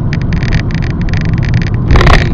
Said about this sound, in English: A subtle whirring of the engine.